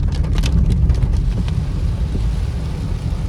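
Heavy rain drumming on a car moving at night through the Shiwalik hills toward Dehradun, a dense steady wash of rumbling road and rain noise throughout, loud and close with no talking.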